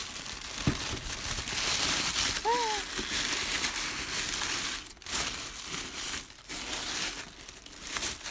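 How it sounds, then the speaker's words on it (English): Paper crinkles and rustles steadily up close as tissue is slowly peeled away, with a few sharper crackles along the way. "I don't know why I'm taking the tissue paper off so nicely."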